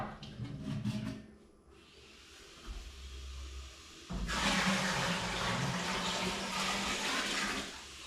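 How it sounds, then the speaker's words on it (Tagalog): Water gushes loudly from a tap as it is collected indoors at home, with softer running and splashing first, then a strong, steady rushing flow filling a container nearby. "Ako'y nag-iipon ng tubig mga kautoy."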